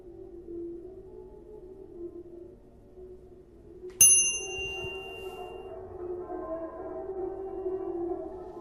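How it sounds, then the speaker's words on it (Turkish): A single clear ding from a hotel reception desk bell in the video game The Isle Hotel, sharp and ringing out briefly over a low droning ambient game background. "Çal zili."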